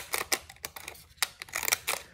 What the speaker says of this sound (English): I'm gonna cut the side